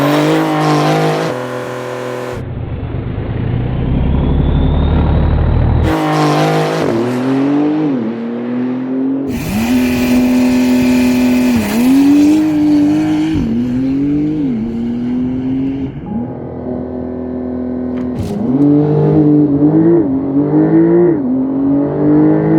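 A Porsche 911 Turbo S drives hard and accelerates, its engine roaring up through the revs in repeated pulls with gear changes between them. Loud and close throughout, with brief quieter gaps.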